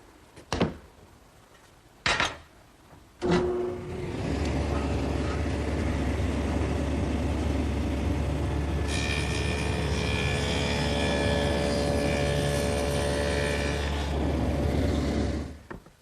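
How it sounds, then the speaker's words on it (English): A table saw fitted with a stacked dado head cutter spins up and cuts a 3/4 inch wide, 1/4 inch deep groove in wood, a loud steady whine and roar running for about twelve seconds after a few sharp knocks. "So I've set up my table saw with a stacked dado head cutter."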